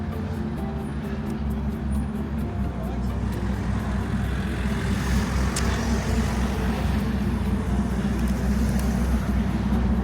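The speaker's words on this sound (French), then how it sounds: "Il y a une Corvette qui vient d'arriver." A Chevrolet Corvette arrives at a convertible and collector car gathering in Louhans, its engine rumbling steadily through the whole stretch amid crowd noise and other traffic, with people talking nearby.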